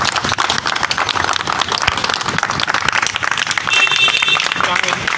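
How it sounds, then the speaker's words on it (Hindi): An audience at a village welcome gathering for Rajpal Singh breaks into loud, sustained clapping. The applause stays dense and continuous throughout and swells slightly toward the end. "जोरदार ताली बजाएं"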